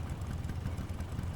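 A vehicle engine idles in the Metal Gear Solid Delta video game, a steady low rumbling hum that runs unbroken at moderate level with no other sounds.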